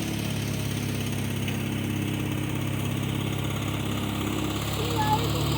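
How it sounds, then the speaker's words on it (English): A Sears SS16 Suburban garden tractor's engine runs at a steady idle nearby, a constant low droning hum throughout, while voices talk over it. "Daddy get the tractor going."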